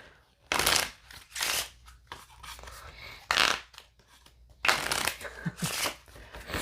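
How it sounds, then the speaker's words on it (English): Playing cards shuffled at a tabletop card game, several loud riffling bursts separated by short pauses, close up, with quiet talk between them. "I shuffle for Sam in case you were wondering"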